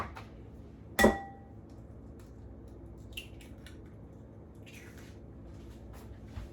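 One egg knocked and cracked into a bowl, a single sharp clink followed by faint soft squishes and small bowl sounds in a quiet kitchen, no speech.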